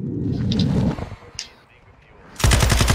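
A light machine gun in a first-person shooter rattles off a rapid, loud burst at the end, after a short earlier flurry of gunfire and a quieter gap with faint game sounds.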